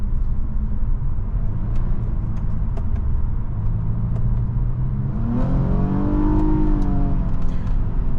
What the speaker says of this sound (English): Nice response from the engine because we do have that naturally aspirated V6